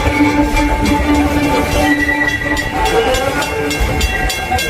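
Disney's Railroad train running at Magic Kingdom, Walt Disney World, giving a steady loud rolling rumble with rhythmic clicking, hissing steam and sustained whistle-like tones throughout, with no talking.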